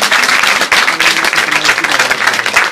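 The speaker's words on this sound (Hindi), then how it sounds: "जोरदार तालियां दीपक भाई के लिए" Dense, loud applause from an audience at a Swadeshi commemoration ceremony in India, steady and sustained throughout without a break.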